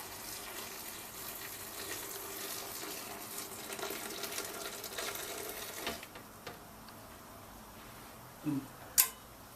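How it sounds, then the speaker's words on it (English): Hot water poured from a kettle over a cup of dried red pepper in a bowl, a faint steady splashing pour that stops partway, then a couple of soft clinks. "now I'm pouring hot water"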